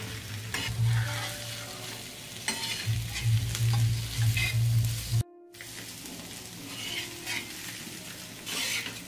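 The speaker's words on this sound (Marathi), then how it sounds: "आणि सारखं बारीक गॅस करून आपल्याला असं एकजीव करून घ्यायचं, आणि काही सेकंद फक्त आपल्याला ही चटणी तव्यावर ठेवायची" Chutney stirred and frying on a tava over a low flame: steady sizzling with repeated scraping and clinking of a spatula against the pan, pausing briefly midway.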